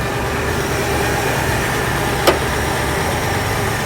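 A 1973 International Scout with a 345 V8 and a new two-barrel Holley carburetor idles steadily and close by, a smooth continuous rumble with a single brief click partway through.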